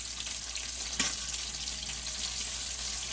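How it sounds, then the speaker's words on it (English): Turkey bacon sizzles and crackles steadily in a pan, a continuous frying hiss with small pops, close and fairly loud. "Nothing beats the smell of bacon frying."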